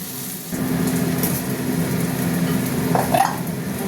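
Tomatoes frying in a kadai for masoor dal with bottle gourd, a steady close sizzle with brief stirring scrapes near the end.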